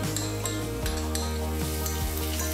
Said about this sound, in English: Heat up the pan and add a little amount of oil. Sauté the aromatics by adding in the garlic